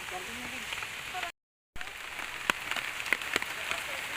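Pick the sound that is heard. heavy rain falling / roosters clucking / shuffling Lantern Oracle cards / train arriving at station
heavy rain falling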